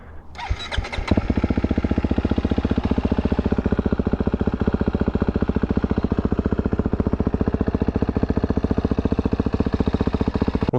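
A 2023 KTM 250 XC-F dirt bike engine fires up with a brief cranking burst, then settles into a loud, steady, close idle with an even rapid pulse and no talking.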